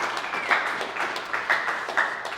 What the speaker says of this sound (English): another little round of applause